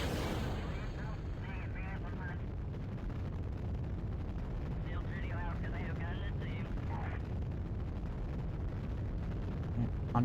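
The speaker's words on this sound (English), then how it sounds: "Onboard rocket motors." Rocket motors fire in the video game Kerbal Space Program, producing a continuous broad, rumbling roar with crackling texture that holds at a steady level throughout.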